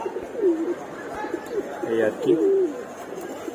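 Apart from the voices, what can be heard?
pigeons cooing in a loft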